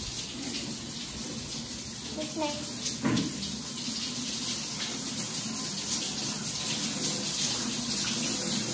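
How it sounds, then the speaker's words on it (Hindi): Shower water running steadily in a home bathroom, a continuous hiss under brief speech. "बंद करो ये शावर, बंद करो ये।"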